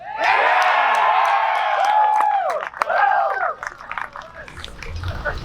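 A crowd cheers, whoops and applauds at Spike Cohen's 2020 Libertarian stump speech in Salt Lake City, loud and lively at first, then thinning into scattered shouts and claps.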